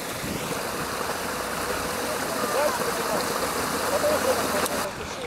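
A park fountain splashes in a continuous, loud, rushing wash of water that stays steady throughout, close by, with a faint engine-like hum in the background.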